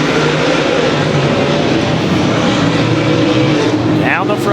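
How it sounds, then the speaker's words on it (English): Modified stock cars in a USRA Modified heat race roar around a dirt track, a loud steady engine drone with shifting pitch as the pack passes, while a commentator talks over it. "Handful of laps remaining here in the final USRA Modified heat race."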